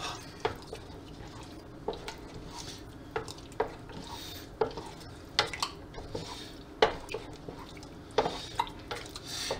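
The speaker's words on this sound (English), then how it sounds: "now we give that a mix real good and make sure you get all the bottom of that paste up" A spoon stirs tomato paste into gravy in a pot, with irregular metallic scrapes and knocks against the pot over a faint simmer, close and without speech.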